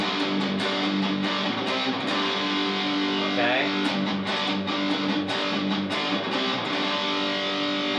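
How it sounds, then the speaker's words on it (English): An electric guitar on its bridge pickup, run through a metal-style distortion pedal into an amp, plays a series of sharp picked notes and chords with a gritty sustained tone. Someone speaks briefly over the playing. "Now I'm using my metally stick distortion pedal for this"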